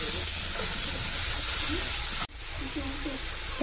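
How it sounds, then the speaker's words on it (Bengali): Chili powder and spices frying in a pan, a steady close hiss and sizzle throughout with a brief dip partway, while a voice speaks faintly underneath. "লঙ্কার গুঁড়ো, একটু ভালো করে ভেজে নেব।"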